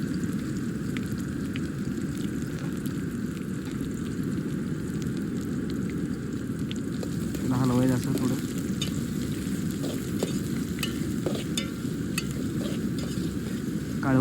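Onions fry in a pan and are stirred, giving a steady close sizzle with occasional scraping strokes and faint background voices now and then.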